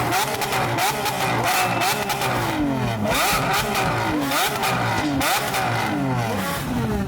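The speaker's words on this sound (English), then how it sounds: "We got the SEO revving, we got the Lambo revving." Supercars including a Lamborghini revving hard at a car meet block party, loud and continuous with repeated rising and falling engine pitch sweeps and crackling exhaust, overlapping engines from nearby with crowd noise underneath.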